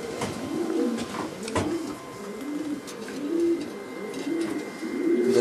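Pigeons coo steadily in a Polish breeding loft holding blue, pied and speckled birds, soft repeated throaty coos overlapping close by over a continuous low hum of the loft.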